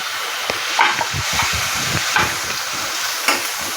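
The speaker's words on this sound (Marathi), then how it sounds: "आपण ह्याच्यामध्ये बारीक चिरलेला टोमॅटो घालूया." Finely chopped tomato goes into softened onions frying in a pan for Surat-style anda ghotala, giving a steady, loud sizzle with a few stirring scrapes and no voices.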